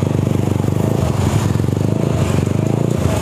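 A Yamaha Mio scooter fitted with a racing exhaust, its air filter just replaced, runs loud and close at a workshop with a fast, even, buzzing engine pulse that holds steady throughout.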